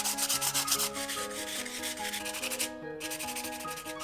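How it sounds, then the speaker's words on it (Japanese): 240-grit sandpaper rubs briskly over a peeled wooden pipe carved from a Hydrangea paniculata branch, a rhythmic close scraping with a brief pause, over faint tonal music. "240番のサンドペーパーで磨きます。"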